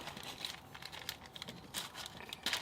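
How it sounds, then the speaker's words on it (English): A small plastic bag crinkles and rustles in irregular bursts during a Land Rover fuel injector swap, close and fairly quiet, with no talking. "Then I just took a little plastic bag"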